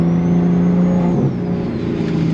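An 830 wheel-horsepower BMW M240i pulls hard in second gear, a loud steady engine drone from inside the car with no talk.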